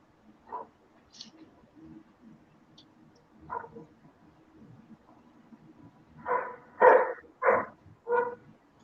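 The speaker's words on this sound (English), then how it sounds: "I wonder what them guys are barking about." Dogs barking at a distance, a few isolated barks early and then a quicker burst of four loud barks close together near the end, with quiet stretches in between.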